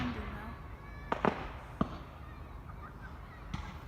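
Fireworks go off at a Bonfire Night gathering outdoors, a few sharp distant pops and bangs scattered over a low rumbling background, with people talking faintly nearby.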